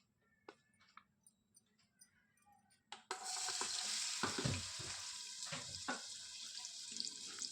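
A few soft taps and clinks lead into a sudden loud burst of sizzling as onions hit hot ghee in a pan on a gas stove, then a sustained close hiss with occasional stirring knocks.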